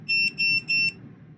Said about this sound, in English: the flight controller powered up, the buzzer buzzed